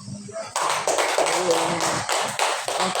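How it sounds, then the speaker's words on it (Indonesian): Audience of teachers clapping their hands together during a school workshop session, a dense burst of applause that starts suddenly and continues steadily with irregular sharp claps. "Nah tadi Bapak Ibu tepuk tangan tadi itu termasuk kita menghargai teman"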